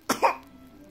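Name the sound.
baby coughing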